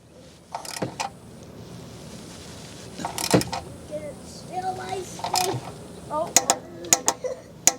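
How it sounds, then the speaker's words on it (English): Torque wrench set to 30 foot-pounds tightening the oil drain bolt on a Toyota RAV4, giving a few sharp close ratchet clicks spread across the clip with quiet mechanical handling between them. "So make sure you guys get yourself a 30 foot-pound type torque wrench."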